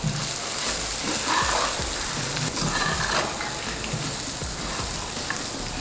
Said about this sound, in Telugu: వీటన్నిటిని వేసి ఒక్కసారి కలపెట్టుకుందాము.